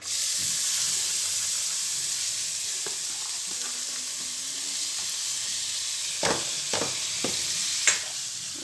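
Moong dal fries in hot ghee for halwa, a dense continuous sizzling hiss that is close and steady, with a few sharp spoon taps and scrapes near the end and no talking.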